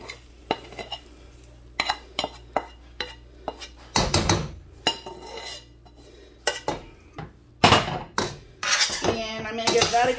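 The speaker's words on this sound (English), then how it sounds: "I'm going to dump all of this yummy goodness. Onions and peppers and garlic." Onions, peppers and garlic tipped into a metal pot with loud clattering thumps, followed by scattered clanks of a utensil against the pot and a faint sizzle.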